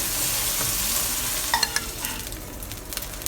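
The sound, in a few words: scallops searing in a pan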